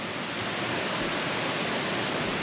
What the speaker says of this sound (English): this would be the bottom end of the little creek that we're camped on